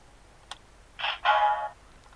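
A Power Rangers Samurai Sushi Changer toy, switched on, emits a faint click followed by two short electronic tones in close succession, the second longer and buzzier, heard up close with no talking.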